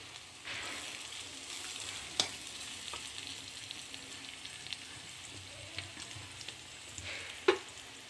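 Onion and grated ginger fry in a pan, a soft continuous sizzle with a few sharp clicks and stirring scrapes, steady and fairly quiet with no talking.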